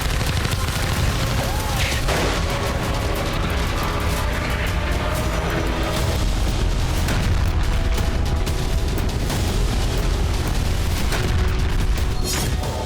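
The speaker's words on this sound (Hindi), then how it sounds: "इजराइल के शहर शहर पर हिजबुल्लाह के रॉकेट गिर रहे हैं।" Rocket and missile explosions from Hezbollah attacks striking Israeli towns in the Galilee: dense, continuous rumbling booms and crackling blasts that run the whole time at a steady loud level, with no voices.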